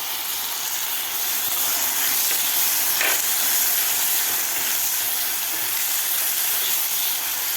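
Chopped tomatoes sautéing with onion in a pan for a vegetable bhurji, a constant loud sizzling hiss close by, with a faint scrape partway through and no voices.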